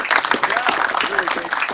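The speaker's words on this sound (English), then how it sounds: "I'd like you to give a round of applause for our panelists here." An audience at a technical section meeting applauds a systems integration panel, a short burst of moderately loud clapping from a room of people, mixed with voices.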